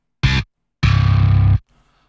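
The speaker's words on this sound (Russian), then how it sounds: "давайте попробуем послушать, как все эти три усилителя маршалловские звучат в миксе" Distorted electric guitar mixed with drums and bass through three Marshall-style amps, two loud chugging bursts, the second longer with rhythmic palm-muted pulses, then a faint tail, no talking.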